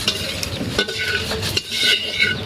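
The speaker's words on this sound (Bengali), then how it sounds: "এবার ভালো করে এটাকে নাড়িয়ে নেবে।" Spices, red and dry chillies, bay leaf and five-spice seeds frying in a pan while being stirred, with a steady close sizzle, scraping strokes and brief utensil clinks throughout.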